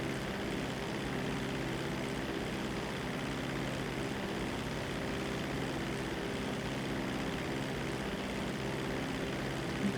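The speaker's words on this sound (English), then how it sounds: "And these planes are not terribly fast." Seaplanes fly in a video game, their propeller engines droning in an unbroken, even hum for the whole stretch, with no voices.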